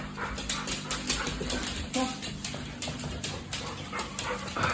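A boxer dog pup, or the expecting mother, whimpers and whines in short repeated bursts close by indoors, with scuffling and a person's voice speaking now and then in the background.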